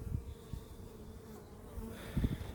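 Carniolan honey bees humming during installation of a package into a hive, a faint steady drone with a few soft handling thumps.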